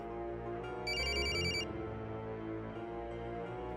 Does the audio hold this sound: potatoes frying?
no